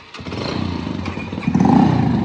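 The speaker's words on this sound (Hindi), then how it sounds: "दिस इज दी बाइक, तो जा रही है भाई" A motorcycle engine runs steadily and grows louder as the bike pulls away, a continuous low rumble with some clatter and no talk over it.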